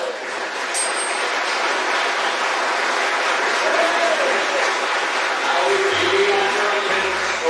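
Theatre audience at Gorleston Theatre, Norfolk, applauds a skiffle band, sustained and even clapping from a large crowd filling the hall, with a few faint tones and rumbles underneath.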